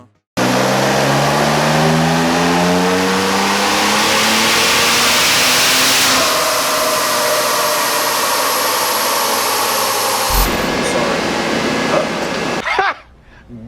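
A V6 car engine revs hard and continuously on a chassis dyno, with rising and falling harmonic tones as it climbs through the gears, loud and close before cutting off abruptly near the end.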